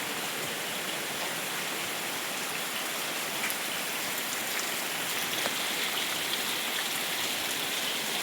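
Rain falls steadily into a home courtyard, an even, fairly loud hiss of drops on the ground with scattered sharper splashes and no voices.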